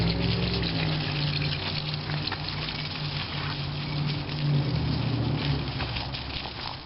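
Steady hiss of water spraying from a garden hose onto compost, continuous and close, with no talking.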